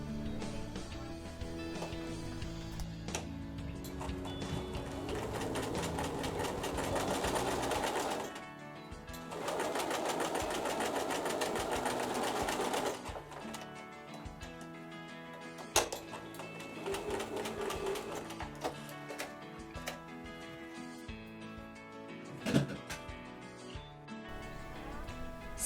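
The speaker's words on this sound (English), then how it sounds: "and sew again." A sewing machine stitches quilt block pieces for a Monkey Wrench block, running in several bursts of rapid, even mechanical whirring, with pauses and a few isolated clicks between runs; fairly quiet and close, with no talk.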